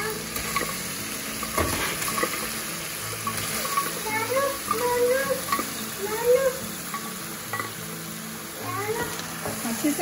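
Mutton sizzles and is stirred in a hot pan for a quick tahari, a steady frying crackle with scraping stir strokes running throughout, fairly close, with faint background sounds over it.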